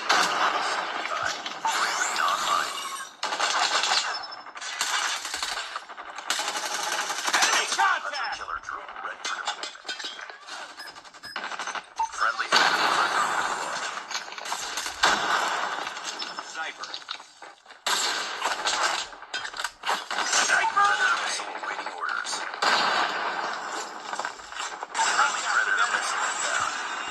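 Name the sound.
gunfire and battle sounds from video game Call of Duty Mobile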